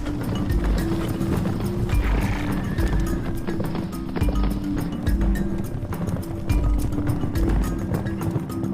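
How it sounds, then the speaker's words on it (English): A hack horse running on the Gansu plateau in China, with rapid, continuous hoofbeats and occasional neighs throughout. "The plateau gives the hack horse a strong physique. It runs."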